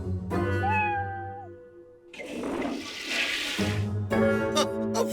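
A raven mimicking a flushing toilet: a rushing, gurgling whoosh of about two seconds, framed by the bird's own tonal, harmonic calls just before and after, all close and clear.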